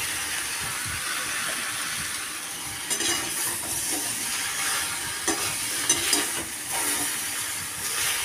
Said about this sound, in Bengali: ডাঁটাগুলো দিয়ে আবারও একটু নাড়াচাড়া করে নিতে হবে, যাতে তেল মশলাটা ভালো করে এর মধ্যে ঢোকে।